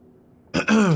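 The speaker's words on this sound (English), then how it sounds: "coughed hard enough to blur my vision" A sudden single hard cough bursts out close and loud after near silence, a harsh throaty hack that stretches into a rasping exhale with no talk.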